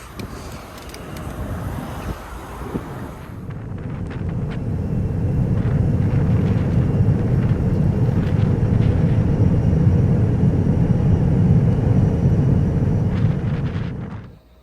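A wrecked Chevrolet Z-71 Suburban, running again after sitting for over a year, driving on a road in a blizzard, heard as a rising, sustained rumble of engine and road noise mixed with wind buffeting before it cuts off.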